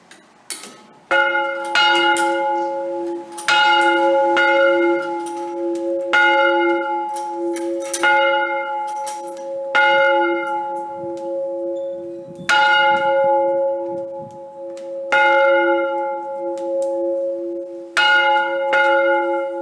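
The large bells of Verona's Cathedral of Santa Maria Assunta ring in an irregular peal, strikes overlapping with a long sustained hum, loud and resonant with no voices.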